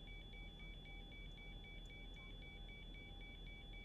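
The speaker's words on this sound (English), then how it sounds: "And I hope this annoying beep goes off." A cockpit warning beep repeats in an even, rapid pulse throughout, insistent and steady over a dense background of engine and cabin noise.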